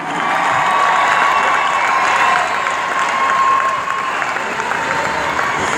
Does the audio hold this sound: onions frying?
no